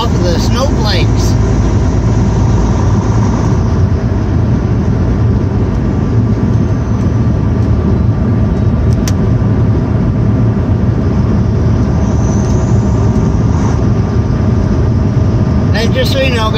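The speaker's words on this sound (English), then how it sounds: "I am driving slower than the speed limit" A car driving slowly on a snowy road, with a steady, loud broadband rumble of engine and tire noise continuing throughout without clear breaks.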